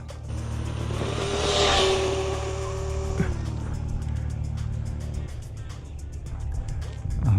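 A vehicle on a 3S snowmobile trail on thin, icy snowpack sits stuck, its engine droning steadily and then climbing to a whine as the tracks spin without grip. The sound is loud and continuous, with no one speaking.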